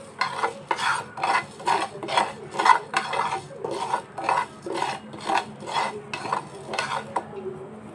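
Cumin, coriander and fenugreek seeds dry roasting in a pan, heard as steady rhythmic scraping and rattling strokes as they are stirred, close and moderately loud, with no talking.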